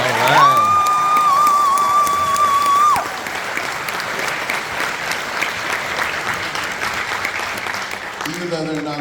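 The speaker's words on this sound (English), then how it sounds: "Let's give them a round of applause." Applause from the audience at a high school band spring concert in Charlotte, North Carolina, with loud, sustained clapping and cheering, a shrill whistle or shout in the opening seconds, and the crowd noise fading toward a voice at the end.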